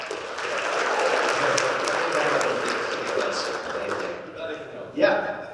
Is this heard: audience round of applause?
yes